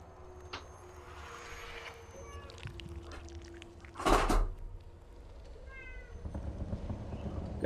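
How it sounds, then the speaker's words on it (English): A cat meows several times in the video game Homebody, high drawn-out calls over a quiet ambient bed, with a louder burst of noise in the middle and faint game sounds around it. "Got a kitty down here."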